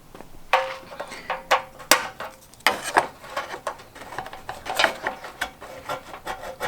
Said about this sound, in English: I'm also going to go ahead and remove these 4 pop clips